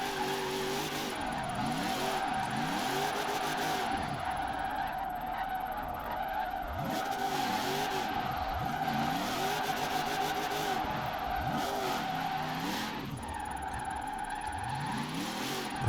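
A drift car in Forza Horizon 4 slides repeatedly, its engine revving up and down in sweeping cycles while tires squeal and hiss under the sustained, fairly loud engine roar.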